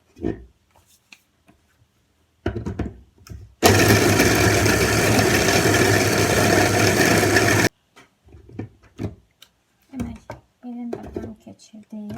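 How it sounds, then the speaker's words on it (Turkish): A loud blender whirs steadily for about four seconds, grinding bread into crumbs, with quiet speech and small kitchen clatter before and after. "tam toz haline gelene kadar blenderdan keçiririk"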